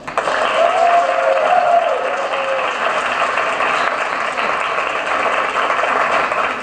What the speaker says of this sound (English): And now over here, a loud round of applause.